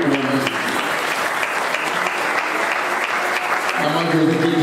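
Church congregation applauding and cheering for Maman José during a French-language service, a loud continuous wash of clapping with voices mixed in throughout.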